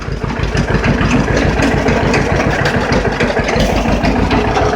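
A cold tractor engine idles, unrun for a while, with a loud, steady low chugging rumble and rapid even pulses, close by and without talk.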